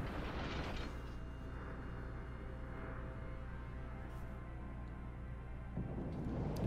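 Heavy warship gunfire from an Italian battleship, the Giulio Cesare in World of Warships, makes a dense, sustained low rumbling roar, moderately loud and continuous, easing briefly near the end before rising again, with no speech.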